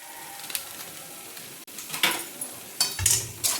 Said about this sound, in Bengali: এবার আমি এই মশলাটাকে ভালোভাবে কষে নেব